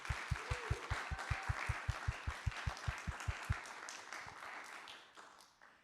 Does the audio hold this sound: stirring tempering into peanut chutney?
no